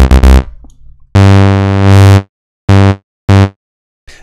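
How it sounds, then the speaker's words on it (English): A loud, buzzy distorted tone from a Hive 2 synthesizer's distortion effect plays in several sustained bursts of varying length, harsh and saturated, with no talking. "as soon as I dial the amount of the distortion in here, you hear it's distorting."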